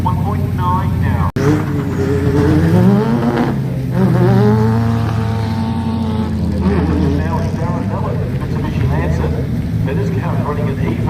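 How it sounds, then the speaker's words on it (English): A sprint car with a turbocharged Mitsubishi Lancer Evo engine races at the Leyburn Sprints, its engine note rising and falling beneath steady race commentary. "Running an Evo Mitsubishi turbocharged engine"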